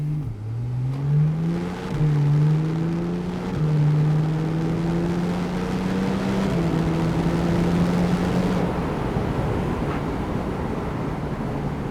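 A Porsche 911 Turbo S (991.1) flat-six revs up and pulls hard through several gears, the engine pitch climbing and dropping at each shift, with wind rush building as the car speeds along an open road.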